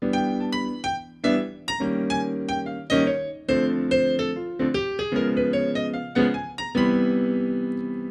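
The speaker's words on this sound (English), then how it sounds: "I'll just play root position chords for now." Root-position keyboard chords struck one after another in a steady rhythm, each ringing briefly before the next, with a final chord left to sustain and fade.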